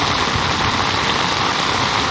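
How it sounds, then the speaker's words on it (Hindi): Heavy monsoon downpour in Rawalpindi and Islamabad, a dense, loud and unbroken hiss of rain pounding surfaces close by, steady from start to end with no voices. "रावलपिंडी इस्लामाबाद में मूसलाधार बारिश से जल थल एक हो गया।"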